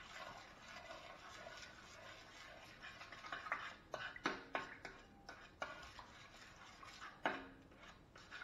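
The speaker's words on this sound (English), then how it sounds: "now all the ingredients have to be mixed together" Liquid oxygen ice cream ingredients stirred together in a container, with soft scraping and clinking of a utensil that grows into sharper knocks and clatters midway, close and fairly quiet.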